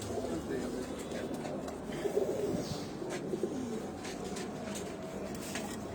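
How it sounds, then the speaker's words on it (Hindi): Pigeons coo softly over a busy, noisy background with murmuring voices, the low calls repeating irregularly; a nesting female on eggs is among them. "ये कबूतर मुझे देख के बोल रहा है"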